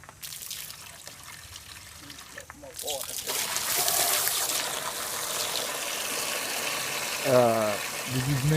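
Running plain water splashes and trickles steadily as vinegar is rinsed off something, with brief voices and some clatter mixed in.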